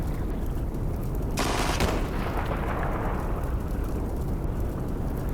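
KV-2 tank's big gun fires in the tank game Steel Fury, one loud booming blast that rolls into a long rumbling decay over steady engine and battlefield noise.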